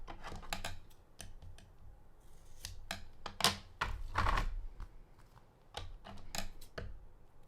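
Scissors trim an overhanging piece of card stock from an embossing folder project, a string of sharp, quiet snips and clicks in an irregular rhythm, close up with no talk.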